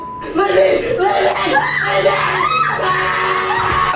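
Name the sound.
woman screaming in a paranormal vlog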